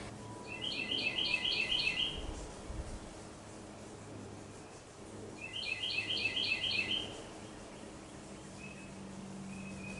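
Small birds chirp in a backyard in the morning, two clear bursts of quick repeated high tweets a few seconds apart, moderately near over a soft steady background hum.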